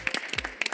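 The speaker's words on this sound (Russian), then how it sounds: "аплодисменты" Short burst of applause for competing teams at a live quiz show on cybersecurity, a handful of distinct, sharp claps in quick uneven clusters, close and brief rather than a full roar.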